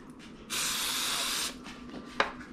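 A single one-second burst of aerosol cooking spray hisses close by, followed by a quiet pause and a small tap.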